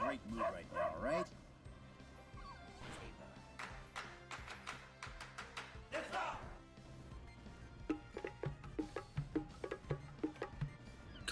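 A dog in the PokeMMO online game barking and yipping in repeated short bursts, some in quick clusters, mixed with other game sounds over about eleven seconds.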